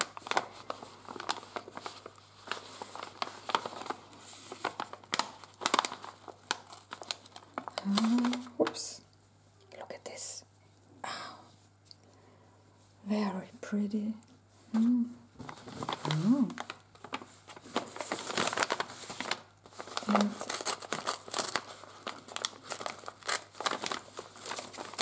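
Gift wrapping paper on a piece of happy mail is unwrapped and crinkled close by. Repeated rustling and tearing bursts come in uneven clusters, with someone talking between them.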